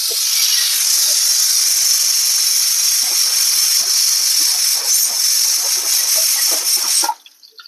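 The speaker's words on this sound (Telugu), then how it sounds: "సో చికెన్ 2 whistles వచ్చేసింది" Pressure cooker whistling loudly while cooking chicken for mandi, a steady sharp steam hiss with faint rattling underneath that holds for about seven seconds and then cuts off abruptly.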